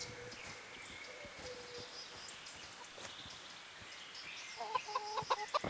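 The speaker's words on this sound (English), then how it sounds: "Chickens." Chickens in the game Kingdom Come: Deliverance give faint, scattered clucks over a quiet ambient background, then a short flurry of sharper clucks near the end.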